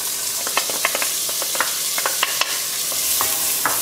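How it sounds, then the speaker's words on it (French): Shallots sweating in butter in a pot, giving a steady bright sizzle broken by frequent sharp clicks of a utensil stirring against the pot, close and fairly loud with no voices. "On va rajouter tout de suite l'échalote. On va la faire suer pendant à peu près 2-3 minutes."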